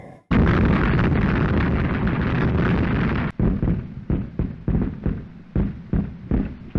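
Shelling explosions in a World War I battlefield scene from All Quiet on the Western Front: a long, loud sustained roar of blasts, then a rapid series of sharp booming bursts with fading tails, no voices.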